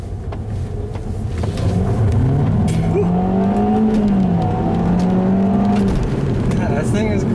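An Audi in manual mode accelerates hard along a back road, its engine note rising and falling through the revs under a loud, continuous rumble of road and cabin noise heard from inside the car.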